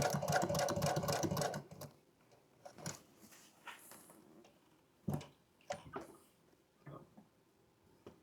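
An upholstery sewing machine stitches a seat insert in a fast, steady burst for about two seconds, followed by scattered quieter clicks and handling knocks.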